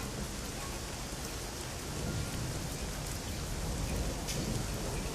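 Steady, dense rainfall in the video game Shadowrun Hong Kong, an even broadband hiss that holds constant throughout with a low rumble underneath.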